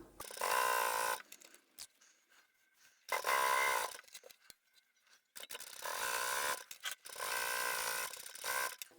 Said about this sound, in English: I always like to secure the stitching where there's bulk, just with a stitch, and then continue on.